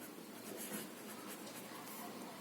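Chalk or marker writing on a classroom board during a seventh-grade maths lesson on percentages, a steady close scratching texture running throughout with no talk.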